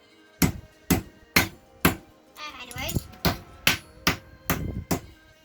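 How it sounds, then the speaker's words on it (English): Bottle caps being hammered flat for a fairy door project, about a dozen sharp metallic blows in an uneven rhythm, close and loud, with a brief jangle of loose caps between strikes. "So what we're doing here, Ben is flattening out bottle tops, bottle caps."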